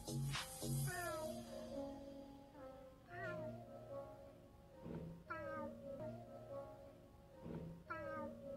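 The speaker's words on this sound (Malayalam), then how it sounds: "നമ്മുടെ തക്കുട പൂച്ചയെ കുറിച്ച് ഒരുപാട് വീഡിയോസ് ഇറങ്ങിയിട്ടുണ്ട് ഇൻസ്റ്റാഗ്രാം റീൽസിൽ" A cat meowing repeatedly in a short social-media reel, several drawn-out, rising and falling meows in succession, loud and close with no talking.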